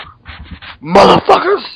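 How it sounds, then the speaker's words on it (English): A dog barks twice, loud and close, right after some brief muffled vocal sounds and talking. "I apologize if you hear any barking sounds."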